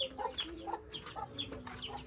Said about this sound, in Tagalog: Naghuli ng manok si mother.